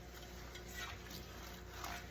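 Tap water runs steadily while rinsing a Calphalon grill pan in a sink, a continuous close hiss and splash with slight shifts in flow and no talking.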